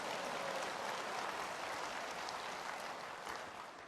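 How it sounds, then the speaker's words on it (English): Applause from a congregation at a Saturday morning Reform Jewish service during a biennial gathering, a dense, even wash of clapping that holds steady for a few seconds and then begins to fade. "That deserves a little applause."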